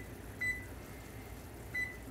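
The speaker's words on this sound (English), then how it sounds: "We got a timer right here, Paul." Kitchen timer beeping while caramel corn is made at home: two short, moderately loud electronic beeps about 1.3 seconds apart over a steady background hum.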